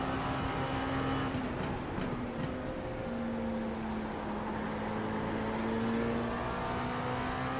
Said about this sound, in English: Good pass in the Porsche.